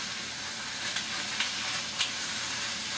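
Pork and onions sizzle steadily in a hot pan, a continuous close hiss broken by a few soft stirring scrapes.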